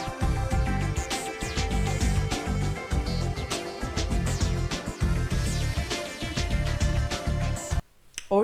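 Orchestral combat music from the sci-fi shooter game Mass Effect plays loud and dense, with driving rhythmic low hits under layered sustained tones, then cuts off abruptly near the end.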